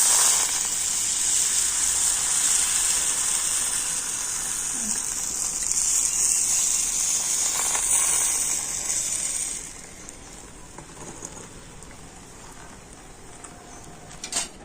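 Batter poured into a hot oiled pan sizzles in a loud, steady hiss that drops sharply to a quieter crackle partway through, close up with no talk.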